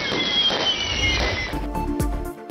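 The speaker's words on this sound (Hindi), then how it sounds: "पेशावर में भी आतिशबाजी की गई।" Fireworks bursting during New Year celebrations in Peshawar, Pakistan: a loud, sustained crackling roar gives way to a few sharp, separate bangs near the end.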